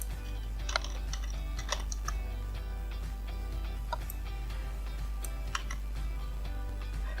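Steady typing on a computer keyboard, close and clear, with irregular clicking keystrokes and occasional sharper taps over a constant low hum, no voices.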